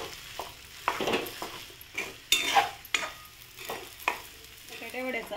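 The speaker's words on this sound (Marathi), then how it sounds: "ही बटाटे वड्याची भाजी आता आपण व्यवस्थित मिक्स करून घेऊया." Potato vada filling stirred and mixed in a pan, with repeated scraping and clinking strokes of a spoon against the metal at an uneven rhythm, close by, over a soft sizzle.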